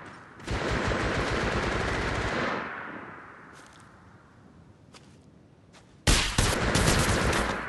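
Gunfire in Apex Legends rattles loud and close in a sustained automatic burst, fades into a lull with a few faint short shots, then resumes in another heavy burst.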